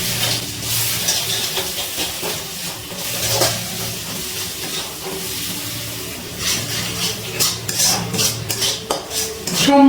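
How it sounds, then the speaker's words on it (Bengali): Ground spice masala stirred and fried in a pan for Bengali potato and green pea alur dom, a utensil scraping and clinking against metal with a steady sizzle underneath, close and fairly loud throughout. "এবার আবারও সব কিছু ভালো করে মিশিয়ে একটু কষিয়ে নিচ্ছি।"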